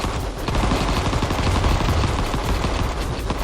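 Gunfire and explosions in the video game Vital Shell, a dense, loud, continuous barrage of rapid shots layered with booming blasts and no pause throughout.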